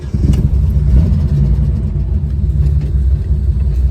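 A Holden Torana pulls away in first gear, its engine giving a loud, steady low rumble that carries through the whole stretch with no talk over it.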